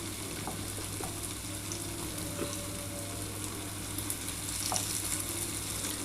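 Poppy seed and white sesame fritters deep-frying in a pan of hot oil give a steady, close sizzle with soft bubbling crackle throughout, no voices over it.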